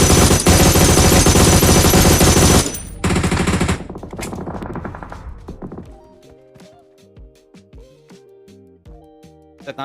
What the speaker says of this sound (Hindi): फायर हालांकि दिया तो जाएगा, जैक काफी लेट हो चुके हैं